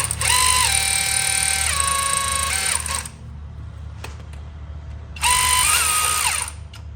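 A power driver runs bolts down snugly on the rear main seal plate of a Silverado 5.3 LS V8, two whirring bursts with shifting pitch separated by a quieter pause, close and loud.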